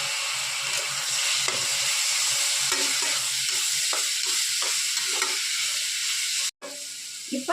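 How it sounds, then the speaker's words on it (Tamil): Onions, green chilies and tomatoes sauté in a hot pan with a steady, loud sizzle and repeated stirring scrapes, ending in a brief cut near the end. "இப்போ நம்ம எடுத்து வச்ச ரெண்டு தக்காளி இருக்கு அதையும் போட்டு வதக்கணுங்க"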